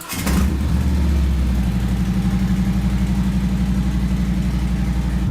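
Harley-Davidson motorcycle engine out on the road, a loud, close, pulsing low rumble that starts abruptly and holds steady, with no talking.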